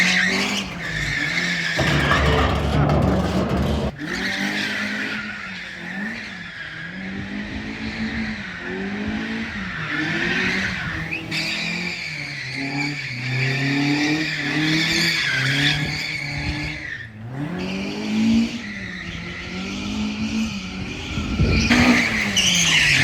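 A beat-up Mazda Miata drifts laps at Fat Five Land in Japan, its engine revving loud and close in rising and falling surges while the tires squeal and skid steadily throughout.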